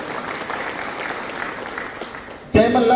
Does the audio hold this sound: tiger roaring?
no